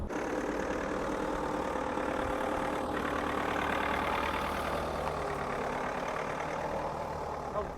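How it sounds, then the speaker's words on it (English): Steady, droning hum of a Tata Safari's 2-liter diesel engine running loudly, a constant mid-low rumble heard from inside the car with no talking. "This might be a little expected from a 2-liter diesel engine"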